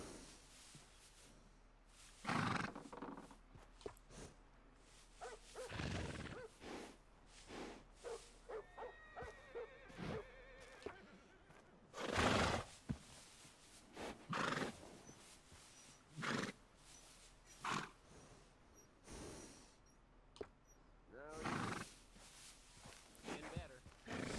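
A horse in the video game Red Dead Redemption II gives a brief whinny midway, amid scattered bursts of game noise and someone talking quietly at intervals.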